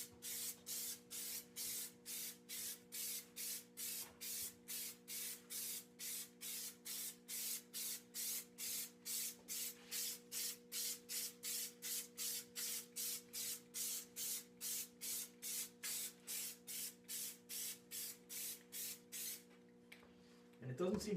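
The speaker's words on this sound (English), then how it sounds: "just spray across like this" Short, regular bursts of spray-paint hiss repeating steadily about twice a second over a faint steady hum, close and evenly spaced, painting plastic Lexus door sills, ending with a brief rustle.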